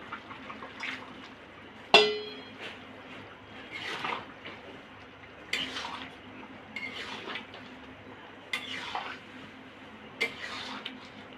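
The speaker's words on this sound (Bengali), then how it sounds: "এখন মাছটা ঢেলে দিয়ে আর 5 মিনিট জাল দিব" Pabda fish tipped into a pot of simmering curry gravy, making close clattering knocks and a few splashy, bubbling bursts spread over several seconds against a low steady background.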